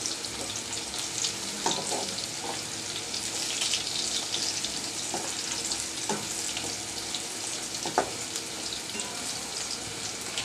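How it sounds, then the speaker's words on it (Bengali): Vegetables fry in a pan with a continuous moderate sizzle, broken by occasional soft scraping and stirring knocks, and no one speaking. "এই তো ঠিক আমি আগে ভেজে নিলাম"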